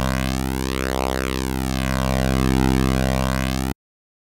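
A flanger effect demonstrated on a steady synthetic tone: a continuous sweeping, whooshing comb-filter shimmer rises and falls over the held sound for nearly four seconds, loud and alone, then cuts off abruptly.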